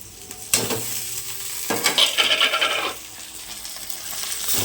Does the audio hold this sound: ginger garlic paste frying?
yes